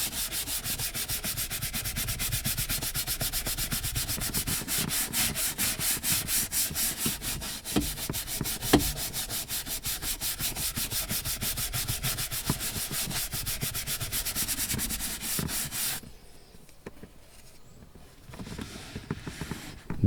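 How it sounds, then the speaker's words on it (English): Microfiber cloth rubbed briskly back and forth across Audi A6 C5 driver's seat upholstery, a rapid, steady close-up scrubbing for about sixteen seconds, then quieter, lighter wiping. "I wipe the dirt with a microfiber cloth"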